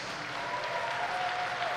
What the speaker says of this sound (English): let's give a round of applause for all of our senior